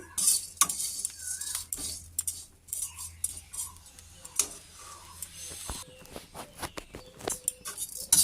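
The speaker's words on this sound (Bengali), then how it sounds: "তো হালকা এটা আমি ভেজে নিব বন্ধুরা" Flattened rice (chira) lightly frying in a pan, heard as soft, sparse sizzling with intermittent clicks and scrapes of a utensil against the pan, fairly quiet and close.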